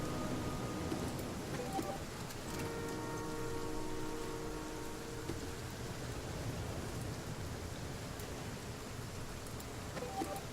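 Steady rain falls in the survival game The Flame in the Flood, a dense, even hiss of drops holding at constant loudness throughout, with faint tonal layers drifting beneath the downpour and no voices present.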